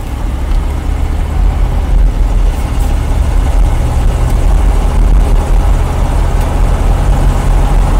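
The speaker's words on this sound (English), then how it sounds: "accelerates as good as a 45-year-old motor can" A 45-year-old 1977 Corvette barn-find V8 pulling along the road from inside the car, a loud, steady low engine rumble with road noise throughout, no speech.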